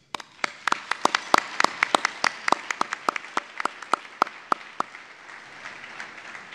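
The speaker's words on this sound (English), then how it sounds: "Let's give them all a round of applause." A small group claps for several seconds, the sharp, scattered claps thinning out and fading toward the end.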